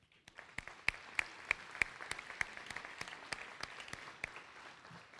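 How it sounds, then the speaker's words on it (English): An audience applauds at a spring nursing pinning ceremony, a faint, distant patter of many hands with a few sharper claps standing out, continuing steadily without voices. "led by Dean Gabbard and Dean McAdams, deserve a robust round of applause."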